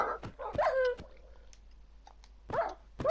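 A dog in a video game gives several close, high-pitched whimpers and yips. Short rising whines come in bursts, with quiet gaps between them.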